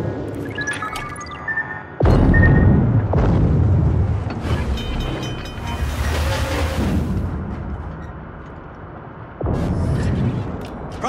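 Heavy booming torpedo explosions in World of Warships around the U-2501 submarine, several deep impacts that start abruptly and rumble on, with no talk over them.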